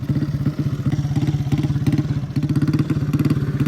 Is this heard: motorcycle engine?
yes